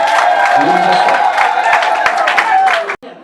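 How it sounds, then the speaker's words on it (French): Guests applaud at a civil wedding ceremony, loud close clapping mixed with crowd cheers and a few whoops, ending abruptly after about three seconds. "Applaudissez s'il vous plaît"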